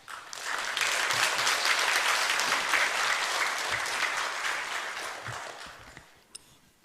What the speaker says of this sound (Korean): 나오실 때 박수로 환영해 주시길 바랍니다.